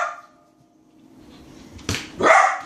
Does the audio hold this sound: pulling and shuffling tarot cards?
no